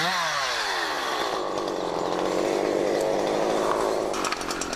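A chainsaw cuts through a felled tree trunk, its engine roaring loud and close at a steady high pitch for the whole stretch, with the bar biting into the wood and no speech.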